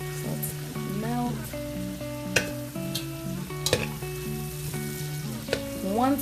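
Butter sizzling as it melts in a pan for an Alfredo sauce, a steady close frying hiss with a few sharp pops and clinks, while faint musical tones run underneath and nobody talks.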